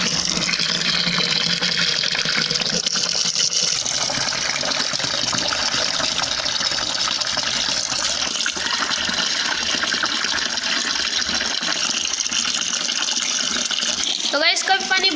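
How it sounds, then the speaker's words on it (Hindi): Water runs steadily from an opened tap into a storage tank, a continuous broadband rush lasting throughout with little change in level. "खोल कर पानी भरने दे।"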